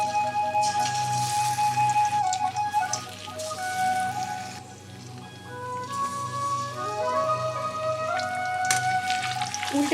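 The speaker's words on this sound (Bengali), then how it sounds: "তেলে ভেজে নেব" Batter-coated eggs frying in oil, a crackling, spattering sizzle running steadily throughout, fairly close, with some dips and swells and tonal hum from the kitchen underneath.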